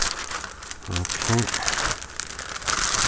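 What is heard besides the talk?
big plastic bag being handled, crinkling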